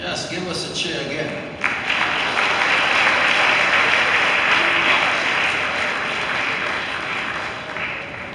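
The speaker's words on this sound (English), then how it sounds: "give us a cheer again." A church congregation at a ceremony honouring a minister bursts into sustained cheering and applause, a dense, steady wash of clapping and voices that swells and then holds at full strength.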